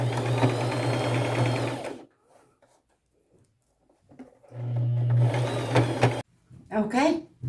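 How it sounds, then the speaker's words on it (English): Sewing machine stitching its largest zigzag stitch with white thread over vintage lace on an upcycled top, two loud, close, steady whirring runs separated by a pause, then a brief bit of speech. "I'm going to use my largest zigzag stitch, white thread, and I'm just going to sew over top of that"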